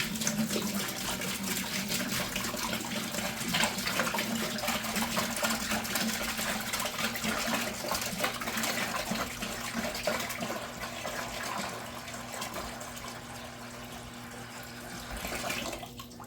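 A gallon of aquarium tank water poured into a small plastic tub, a continuous splashing, gurgling rush with a faint steady hum underneath, easing off toward the end.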